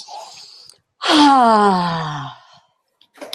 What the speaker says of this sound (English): Deep breath and let it out